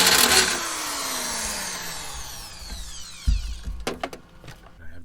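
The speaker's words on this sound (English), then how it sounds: "Just the right tool to get in there and start twisting these 3 bolts out" A hand tool twists out window motor bolts inside the door of an older Ford truck; a long whirring grind fades down, followed by a few metallic clicks, knocks and clatters close by.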